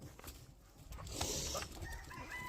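Chickens cluck and a rooster crows on a farm with many birds, the calls fairly close and overlapping in a steady outdoor jumble with no talking.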